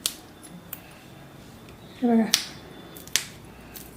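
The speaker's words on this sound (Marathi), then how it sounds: "कोवळी शिंगरीचा असा आवाज येतो, कट कट कट" Tender shingri (radish pods) snap by hand in a few sharp, close crisp clicks spaced apart, with a brief scraping rustle between them and a short spoken phrase at the start.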